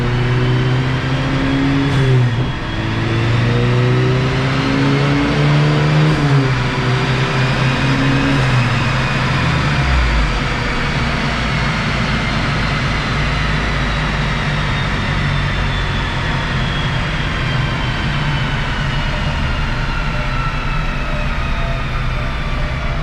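A 2010s Volkswagen MK6 GTI with an upgraded K04 turbo drones and climbs steadily in pitch under heavy load on a dyno, revving higher and higher in a long continuous pull, loud and close.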